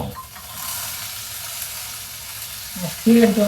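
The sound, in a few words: chopped ivy gourd added to a pan, frying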